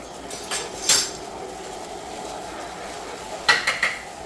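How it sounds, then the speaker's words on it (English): A utensil scrapes and clinks against a bowl while mixing tuna salad: a few short, close clattering knocks spaced apart over a quiet background, with no talking. "You got to mix this well, or else you'll have parts that are like egg salad and parts that are like tuna salad."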